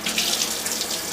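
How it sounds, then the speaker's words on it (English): Hands rinsed under a running kitchen tap while cooking, a steady bright splash of water hissing continuously and close by. "rinse my hand a little bit."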